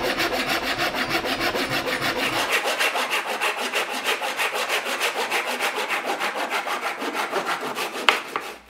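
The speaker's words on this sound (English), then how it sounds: "I'll mark a line halfway and saw it into two pieces" A hand saw cuts through a walnut block in steady back-and-forth strokes, a close, rhythmic rasping with no talk.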